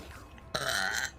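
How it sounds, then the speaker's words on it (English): A single burp erupts suddenly after a quiet lead-in, loud and close, a rough, breathy belch lasting about half a second before trailing off. "I burped."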